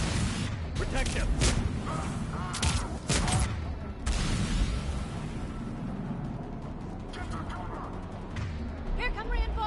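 Rapid gunfire in the video game Mass Effect, dense bursts of shots crackling through a busy battle mix with voices calling out between volleys.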